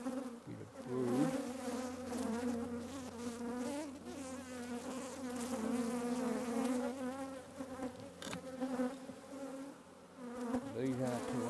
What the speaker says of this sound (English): Bees aren't too angry, folks, so that's a good thing.